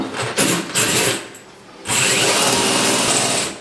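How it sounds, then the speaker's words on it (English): Power drill boring holes into a concrete floor for toilet anchors, heard as short whirring bursts followed by one longer continuous grinding run, close and fairly loud, with no talking. "Make sure you keep your drill straight so the hole is straight."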